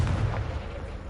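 A single Confringo blast in Hogwarts Legacy, a loud, dense low boom that fills the moment and holds without a clear break.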